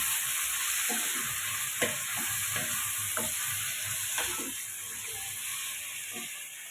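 Capsicum curry stewing in a pan, a soft sizzle under repeated clicking scrapes of a spatula stirring at an irregular pace, nearby, with no talk.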